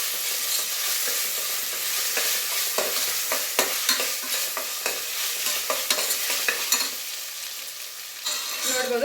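Onions frying with ginger garlic paste in oil in a pan, a steady close sizzle broken by repeated scraping and stirring strokes, with no talking.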